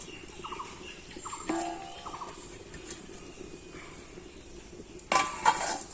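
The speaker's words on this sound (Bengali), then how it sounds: "হাঁড়ির ঢাকনাটা দিয়ে ঢেকে দিলাম হাঁড়ি" A lid clanks onto a cooking pot of village-style Bengali khichuri with potato and eggplant near the end, a short bright metallic hit after a stretch of quiet kitchen ambience with distant fowl calls and faint clinks.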